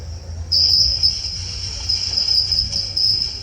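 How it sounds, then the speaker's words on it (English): A recorded cricket plays at an outdoor zoo owl show, its steady high trill starting after a half second and continuing with brief dips, over a low background hum. "This voice is for an insect called cricket. The favorite food for this owl."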